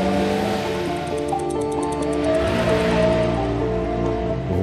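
A 1923 Aston Martin Cloverleaf racing car at full throttle on a technical hill-climb sprint, its engine note loud, close and continuous, rising and shifting pitch through the run.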